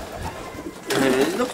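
Domestic racing pigeons in a loft give a soft, low cooing call, fairly faint and close, rising out of quiet background noise in the second half.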